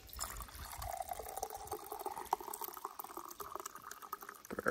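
Hot water poured from a kettle holding tea bags at a cabin campsite, a steady close trickling pour with a rising gurgle as the cup fills, no voices.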